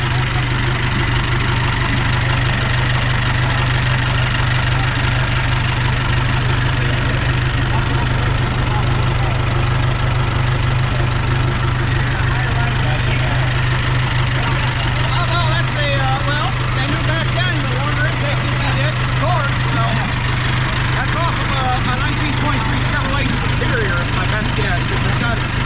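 A Ford Model T engine fitted with an overhead valve conversion idles steadily and loudly nearby at a factory plant, its low rumble and ticking continuous throughout, with people talking over it.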